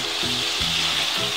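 Mahi mahi fillet sizzling in a frying pan, a steady close hiss of hot oil with soft scraping or shifting sounds at regular intervals.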